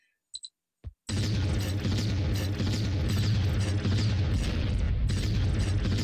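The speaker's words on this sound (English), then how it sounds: "I'm gonna blow up everything because I love" Explosions in the Lode Runner 2 game: a couple of short clicks and blips, then a sudden loud, sustained rumbling blast that roars on for several seconds.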